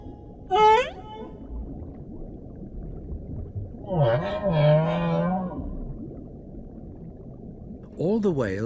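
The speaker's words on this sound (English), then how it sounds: "humpback song is a powerful form of communication" Humpback whale song from the South Pacific Ocean, with a rising whoop near the start, a long groaning, wavering moan in the middle and another swooping call at the end, all over a steady underwater hiss.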